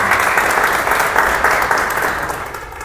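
An audience at a business lunch on financing applauds the bank NCA, loud, dense clapping close by that holds steady and then slowly tapers.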